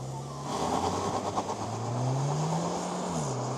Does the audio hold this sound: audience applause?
no